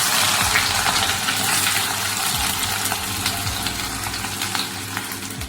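Thinly sliced onion dropped into hot tempering oil in a pan, giving a steady, loud, close sizzle and bubbling hiss that holds evenly throughout with no voices.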